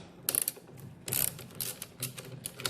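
A ratchet wrench backs screws out of a Nissan Leaf lithium-ion battery bank, giving several quick bursts of close clicking with short pauses between them.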